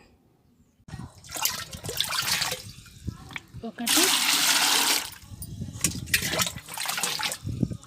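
Water poured from a mug into a container of eggshell liquid fertilizer, in several splashing bursts of steady pouring with short gaps between them, while a person speaks now and then.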